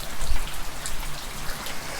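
Steady rain falls after a passing thunderstorm, a dense even patter of drops on surfaces outdoors, with no thunder left and no voices.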